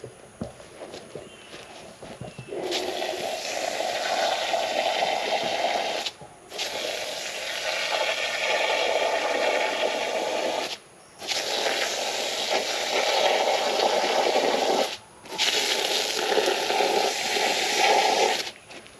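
Well water, unsoftened, runs steadily from a tap in bursts of several seconds separated by short pauses, a close, continuous rushing hiss.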